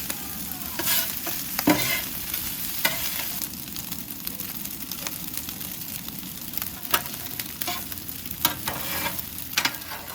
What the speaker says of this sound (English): work your spatulas to break them up and mix them with the egg and the vegetable